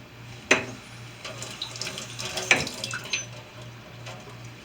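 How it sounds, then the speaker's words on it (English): Tap water runs into a sink as apples are rinsed under it, a steady close splashing flow broken by a few sharper knocks and clunks, with no speech. "I rinsed off my apples."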